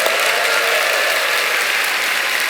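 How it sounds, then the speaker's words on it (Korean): A church congregation claps for the worship team at a Friday night service, with loud, dense, sustained applause filling the room and no talk over it. "우리 찬양팀들을 위해서 한번 박수 쳐줍시다."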